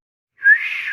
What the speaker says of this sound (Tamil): எங்கேருந்து இந்த விசில் சத்தம் கேட்குது?